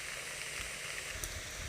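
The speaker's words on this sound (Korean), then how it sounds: "지금 이제 본격적으로 이제 비가 좀 옵니다." Heavy rain during a backpacking trip in a storm with a heavy rain warning and strong wind, steady dense hiss of falling water close by, continuous and even with no talk.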